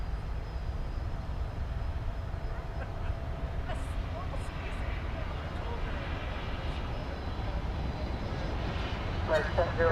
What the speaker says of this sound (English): So nice that we get to see a A380 take off in the daytime.